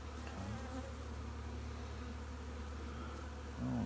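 Honey bees buzz steadily around an open hive frame, a dense, continuous drone close by with no talking.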